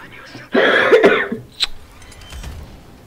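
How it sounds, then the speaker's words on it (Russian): A person coughs and clears their throat close to the microphone, one rough harsh burst followed by a short sharp cough, then quiet. "Этот кашель"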